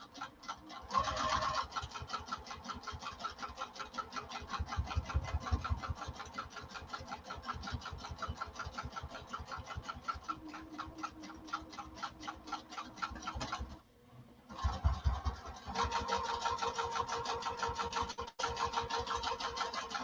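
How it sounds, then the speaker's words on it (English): A sewing machine stitches a straight line across fabric, its needle chattering in a fast, steady mechanical rhythm that runs close and continuous, pausing briefly near the end before resuming. "So you'll see that I'm stitching across."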